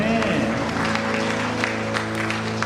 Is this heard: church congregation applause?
yes